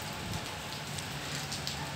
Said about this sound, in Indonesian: ini suaranya memang agak berisik karena ini hujan ya